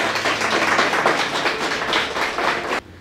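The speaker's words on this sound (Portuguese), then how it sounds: "Dê uma salva de palmas para Jesus." A church congregation keeps up loud, dense clapping during a worship service, a busy patter of many hands with a faint rhythmic pulse running underneath, steady for about three seconds before it cuts off suddenly into quiet.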